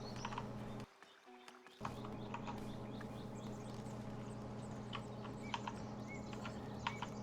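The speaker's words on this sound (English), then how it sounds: "Plenty of bird sound in the background." Ambient birdsong chirps and tweets in the background of the Foundation video game's coastal village, scattered small calls over a steady low hum and music, briefly cutting out near the start.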